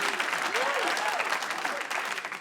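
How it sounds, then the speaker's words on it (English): A comedy audience at a stand-up show claps steadily in a dense burst of applause, with scattered cheering voices rising over it. "Thank you, hold your applause."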